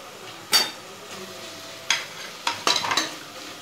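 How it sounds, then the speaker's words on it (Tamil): Prawns sautéing in a pan with chili powder, garam masala, biryani masala and turmeric for prawn biryani, heard as a faint steady sizzle broken by several sharp stirring scrapes of a utensil against the pan. "மஞ்சத்தூள் இதெல்லாத்தையும் போட்டு நல்லா வதக்கிக்கலாம்."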